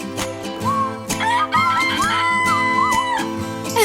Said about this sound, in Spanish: Nos da los buenos días con su cacareo.